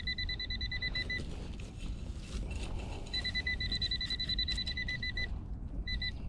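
Rapid high electronic beeping from a metal detector in bursts that cut in and out, with a break in the middle, over a low rumbling background, at a playground.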